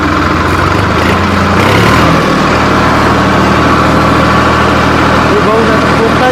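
A Sonalika RX 47 tractor engine runs steadily in reverse gear, a loud continuous diesel drone with a slight shift in tone partway through, while someone talks over it.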